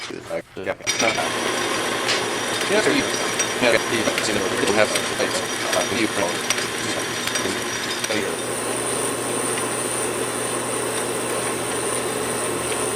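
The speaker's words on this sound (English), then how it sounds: "Get these tightened up a little bit." Metal lathe headstock parts being tightened during servicing, with a continuous close mechanical whir and clicking ratchet-like ticks; a voice speaks through part of it, and a steady higher hum takes over toward the end.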